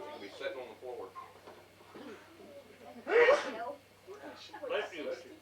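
A single sharp sneeze bursts out at home amid family conversation, a loud, brief explosive sound near the middle with voices talking before and after.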